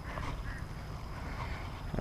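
Ducks quacking by a muddy, reedy fishing spot on a bass run, a few faint calls under steady low rumble, with a brief louder burst near the end.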